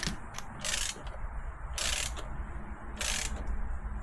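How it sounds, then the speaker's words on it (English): Ratchet turning a spark plug on a 1.9L Yamaha WaveRunner, three short bursts of rapid metallic clicking spaced about a second apart, close and clear over a low background hum. "you can just tighten it down just a little bit"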